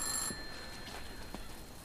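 A telephone rings faintly in a room, a bright electronic ring at the start followed by softer intermittent tones under low background noise.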